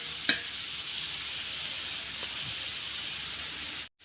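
Cumin tossed into a pan of frying mixed vegetable poriyal gives a steady, moderate sizzle with a sharp tap near the start and a soft clink later, before the sound cuts off abruptly.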